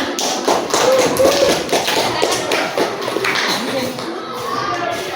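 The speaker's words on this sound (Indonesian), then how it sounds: "lanjut beri tepuk tangan kepada teman-temannya" Schoolchildren in a classroom clap for their classmates, a steady patter of small hands that runs throughout alongside children's chatter and a teacher's voice.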